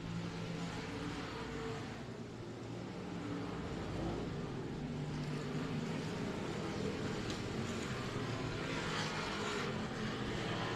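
Dwarf race cars competing on the Cotton Bowl Speedway track in Texas, a steady, dense engine roar from a pack of cars that holds at a constant distance for about eleven seconds, with no voices over it.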